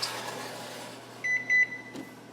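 An oven timer is set for baking cakes, giving a couple of short electronic beeps over a steady appliance hum, fairly close.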